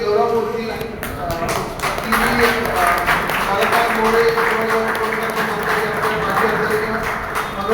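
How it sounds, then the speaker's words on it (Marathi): Audience clapping at a community award and felicitation ceremony, a dense, steady wash of applause lasting throughout, loud and continuous with crowd murmur underneath. "आपण सगळ्यांनी टाळ्या स्वागत करतो पियुषाचं"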